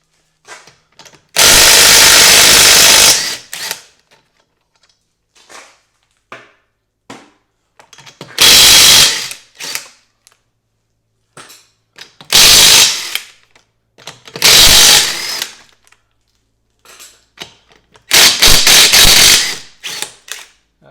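A power tool removing a locking lug nut from a steel wheel: five loud, close bursts of rattling, whirring impact, each lasting about one to two seconds, with near silence and faint handling clicks in between.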